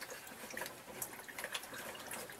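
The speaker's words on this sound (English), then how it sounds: "Rinse off the brush." A paintbrush used with acrylic paint is rinsed in water, giving close, soft splashing and trickling that comes in small bursts. No one talks.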